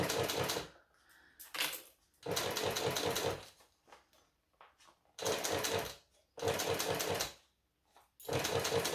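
A sewing machine stitching a pouch, running in several loud bursts of rapid stitching separated by pauses as it backstitches, close and clear with no talk.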